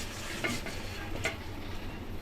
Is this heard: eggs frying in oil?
yes